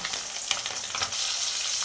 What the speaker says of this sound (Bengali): বাকি মাছগুলো ভেজে নেব একইভাবে